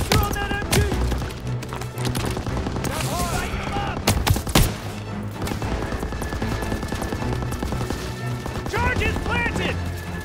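Machine gun fire rattles in bursts through a Call of Duty: WWII battle, with sharp close shots and booms scattered among shouting soldiers' voices.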